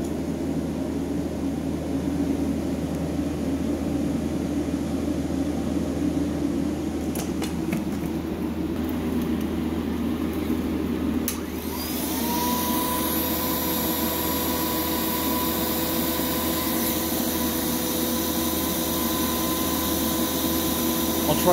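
A Proteam GoFree Flex Pro backpack vacuum runs steadily through an airflow test, a continuous near motor whine and rushing air that shifts pitch partway through as the hose is handled.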